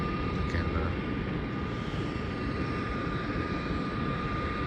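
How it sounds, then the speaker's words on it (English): A small Qantas Link plane takes off from Melbourne bound for Canberra, its engines a steady, broad roar heard from a distance and holding constant throughout. "that is a Qantas link, the Melbourne Canada-8. Taking off now to Canberra"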